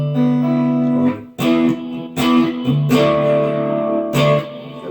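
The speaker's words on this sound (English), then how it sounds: "I like to add a little reverb in front" Electric guitar strummed in separate A chords through a tube amp, each ringing out with a spacious reverb tail before the next strike, played alone and fairly loud.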